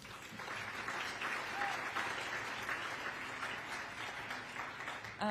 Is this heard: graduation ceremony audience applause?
yes